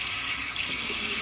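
Steady broadband rush of running tap water, loud and close, as someone rinses off during a live shaving session with no talking over it.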